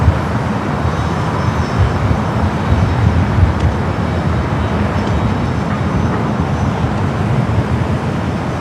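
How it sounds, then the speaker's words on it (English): An Airbus A350-900 arriving from Rome at Los Angeles International Airport, a loud, steady broadband jet engine roar holding constant throughout. "Flight coming in from Rome, the A350-900."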